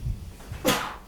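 A single sharp sneeze bursts out near the end, a short breathy hiss after a quiet moment with faint low room sound beforehand.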